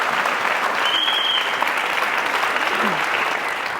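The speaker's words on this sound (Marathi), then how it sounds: "मला वाटतं की भट साहेबांसाठी नक्कीच ऑडियन्सने टाळ्या वाजवल्या पाहिजेत." A studio audience at a televised courtroom-style interview show breaks into loud, sustained applause, a dense even wash of clapping that fills the whole stretch.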